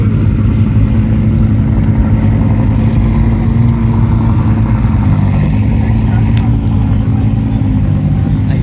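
Several non-Italian cars rolling out together at the Concorso Italiano car show, a continuous loud engine drone with a revving car passing, under someone talking.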